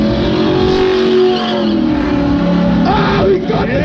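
At the SEMA show, a car doing donuts with no steering wheel fills the clip with loud, continuous engine revving and droning. Excited voices and shouts come through over the engine.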